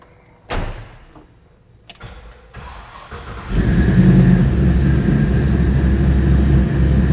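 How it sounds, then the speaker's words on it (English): Restored Chevy C-10 truck engine cranks and fires up after a door thud, then settles into a loud, steady rumbling idle that continues to the end. "Boomer, why don't you fire it up again, show them how the ride height is"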